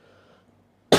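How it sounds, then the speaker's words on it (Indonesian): A single sharp cough bursts out loudly at the end, after near silence with a faint low hum, during a spiritual healing session. "Kemudian batuk-batukan."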